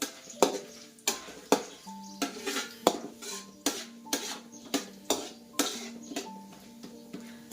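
Spices sautéed in oil in a pan for pasta at medium heat, a utensil striking and scraping the pan in a steady rhythm of sharp metallic knocks with a faint sizzle beneath, no talk.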